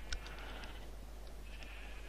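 Minecraft sheep give a few faint, short bleats from a distance against a steady low hum, with no voices over them.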